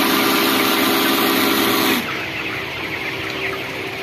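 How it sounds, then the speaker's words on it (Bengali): Chickens cluck inside a shed under the loud hum of a misting machine, which cuts off about halfway, leaving the birds' clucking over quieter background noise. "আবার দেখতে পাচ্ছেন মুরগিগুলো দৌড়ে আসছে।"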